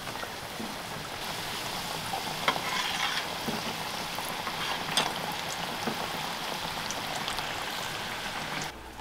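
Tortillas fry into tostadas in hot oil in a pan, a dense, steady close sizzle and crackle with occasional sharper pops, running continuously with no talk.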